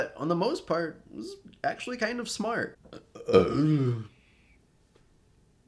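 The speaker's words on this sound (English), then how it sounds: "That was a burp, by the way." A person speaks and burps partway through, the burp a rough, low gurgle blended into the speech, close and fairly loud, followed by silence.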